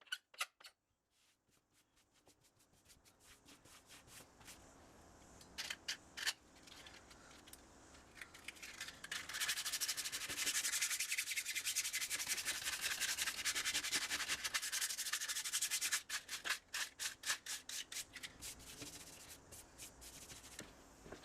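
A paint scraper rubs over filler plugs on weatherboard siding: quiet, quick scraping strokes build into a stretch of steady, harsher rubbing, then break back into short, rhythmic strokes.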